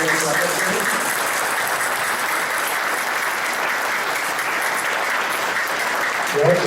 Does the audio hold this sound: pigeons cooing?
no